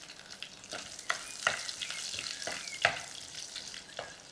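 Garlic frying in a pan in a home kitchen, sizzling steadily with repeated sharp scraping stirs of a utensil, close and fairly loud, no voices.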